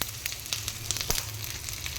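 Dried red chillies, garlic and tempering seeds sizzle and crackle in hot oil for a coconut dal tamarind rasam, with a steady close frying hiss and scattered small pops, no voices.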